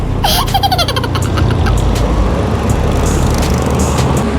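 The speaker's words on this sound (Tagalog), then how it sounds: "At ayan na ang traffic ng Halang." Road traffic at a busy city crossing, heard from a Suzuki Burgman Street 125 scooter: a continuous low rumble of engines and passing vehicles with a brief high squeal near the start.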